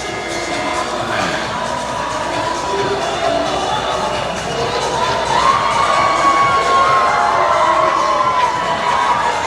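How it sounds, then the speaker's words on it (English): A large outdoor crowd stretches down a street on a hot day, cheering and shouting continuously at loud volume, with excited high voices rising and falling throughout. "Look at the crowd down the street."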